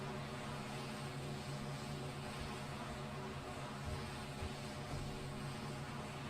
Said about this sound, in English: Nah, it's the Twin Otter.